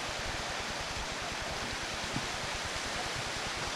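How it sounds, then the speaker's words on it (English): Waterfall at Dunloon in the Australian outback, heard from above the falls: a constant broadband rushing roar of water, steady and enveloping with no pauses, fairly close and uninterrupted by talk. "waterfall of Dunloon."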